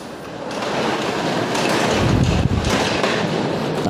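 A tall 3.2-metre uPVC sliding door with a multipoint lock and flush bolts is pushed along its bottom rail, producing a steady rolling rumble that builds slightly toward the middle, with a soft knock partway through and no talking.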